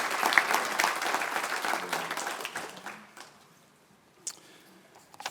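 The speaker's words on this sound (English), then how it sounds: "Please give a warm round of applause for the Green Run High School NJROTC Color Guard." Audience at a Virginia Beach human rights awards ceremony applauds the Green Run High School NJROTC Color Guard, dense clapping at first that thins out and fades, with a few scattered claps near the end.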